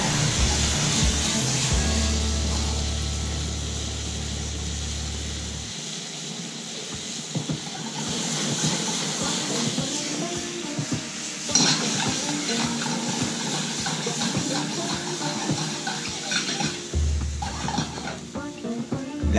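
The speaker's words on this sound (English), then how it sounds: "once the apples are sauteed, nice and soft, then we add our brandy" Brandy poured into a hot pan of soft sautéed apples, setting off a steady broadband sizzle and hiss that runs throughout, with a low rumble at the start and end and occasional clinks of stirring.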